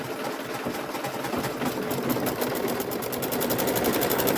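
An embroidery machine stitches out a Christmas ornament on vinyl, a rapid, steady mechanical chatter that runs continuously and grows slightly louder and more rhythmic toward the end, with no talking.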